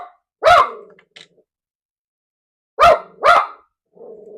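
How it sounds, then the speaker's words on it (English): A pet dog barks indoors: one sharp bark, a short pause, then two quick close barks in succession, loud and near, with a faint vocal sound between them. "That's my dog, my crazy dog."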